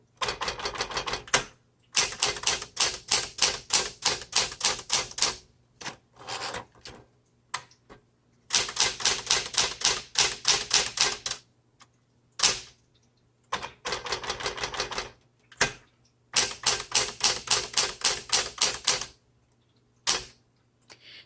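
Typing on a 1970 Smith Corona Classic 12 manual typewriter produces loud, rapid runs of sharp key strikes in bursts of several seconds, separated by short pauses and occasional single clacks, over a faint steady hum.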